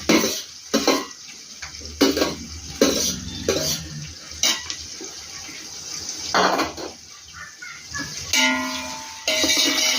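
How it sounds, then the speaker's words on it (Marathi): Onion and tomato are stirred in a pan for mutton dum biryani: a utensil scrapes and clinks against the metal in repeated bursts over a soft sizzle, close and fairly loud. "पूर्ण हलवून घ्यायचं."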